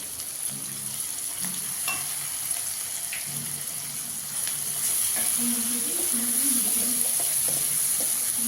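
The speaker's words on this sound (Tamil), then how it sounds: "தக்காளி நல்லா வந்து வதங்கணும். இதில் இஞ்சி பூண்டு பேஸ்ட்டு கொஞ்சம் நம்ம போட்டுக்கலாம்." Tomato sautéing with ginger garlic paste in a hot pan, a steady close sizzle with occasional scraping and stirring clatter, growing slightly louder partway through.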